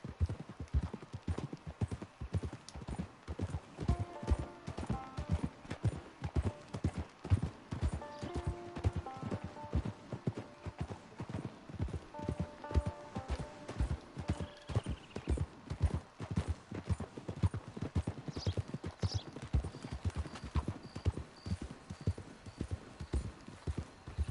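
Horse hooves clip-clop steadily and close throughout, a long brisk rhythmic run of hoofbeats from a ridden horse in the Red Dead Redemption 2 video game, with faint whinnies and music beneath.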